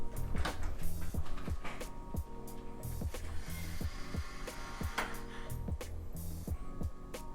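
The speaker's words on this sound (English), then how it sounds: "Finally, lock it fully again." A Level Lock+ smart lock drives a door's bolt fully locked, a close, continuous train of rapid motorised clicks and ratcheting whirs with a couple of brighter clacks.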